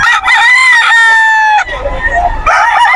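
A rooster crows loudly and close by at a crowded pre-dawn chicken market in Bocaue, Bulacan, one long drawn-out call followed by a shorter second crow, with market bustle underneath.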